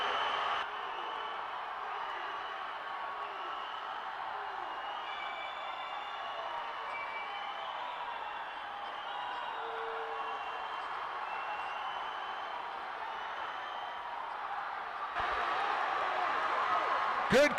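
Crowd noise rises steadily in a swimming natatorium as swimmers race into the finish of a championship final, a broad sustained wash of cheering that holds throughout and swells near the end.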